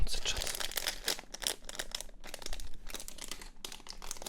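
A small plastic bag of LEGO parts for a Star Wars Darth Vader helmet set is crinkled and rustled close by in steady bursts, with a little faint background sound between handlings.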